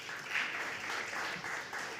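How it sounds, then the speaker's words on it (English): Audience applause at a school graduation ceremony, a steady wash of clapping that holds at an even level for about two seconds with no voices over it. "Give yourself a round of applause."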